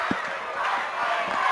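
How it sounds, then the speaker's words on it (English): High school boys basketball crowd at a district final erupts after a layup, a dense roar of cheering and shouting with a few low thumps underneath, steady and fairly loud throughout. "As the Southern Fulton crowd excited here as Spartans, this is a big play for them."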